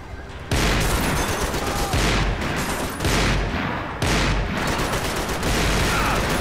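Sniper and heavy gunfire in the video game Max Payne 3, a loud continuous barrage of shots and blasts that restarts in surges about every second, dense and close with no break.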